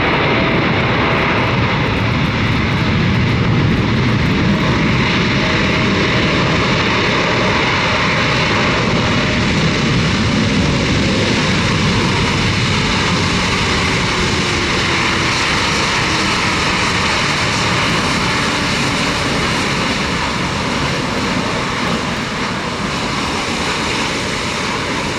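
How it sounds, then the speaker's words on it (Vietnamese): A Qatar Airways Boeing 787-9 Dreamliner airliner rolls on the runway just after landing, its engines giving a loud, constant roar that stays steady throughout. "chiếc Boeing 7879 Dreamliner, chiếc máy bay cũng vừa hạ cánh xuống đường băng 25 phải"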